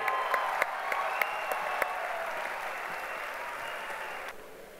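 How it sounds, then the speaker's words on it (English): A large audience in Mumbai applauds loudly at an interfaith peace gathering, as the Dalai Lama is invited onto the stage. The clapping is dense and sustained, with a few sharp claps standing out, then fades near the end. "Let's have a huge round of applause"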